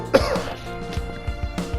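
A person coughs and clears their throat several times in short, rough bursts, close and fairly loud, with brief pauses between.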